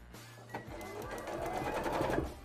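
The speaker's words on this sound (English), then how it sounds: "So this will be a gathering stitch, so we're doing a nice long stitch." A sewing machine runs a long gathering stitch in white thread on hoop skirt layers for cosplay, a steady continuous whirring motor hum that builds slightly over a couple of seconds, close and alone.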